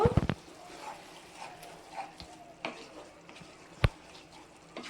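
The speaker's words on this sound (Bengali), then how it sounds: "ভেজে রাখা আলু আবারও কিছুক্ষণ নাড়াচাড়া করে কষিয়ে নেব" Fried potatoes for lau chingri stirred in a pan, with soft scraping and faint sizzling, a few sharp knocks of the spoon against the pan, fairly quiet and close.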